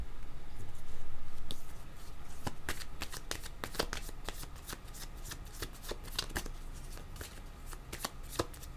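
Tarot cards shuffled by hand, a close rapid run of crisp riffles and flicks, dense at first and then settling into repeated quick snaps.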